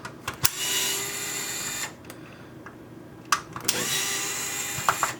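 An electric screwdriver backs screws out of a Nintendo GameCube, whirring in steady runs with short pauses and small clicks between, fairly close and alone.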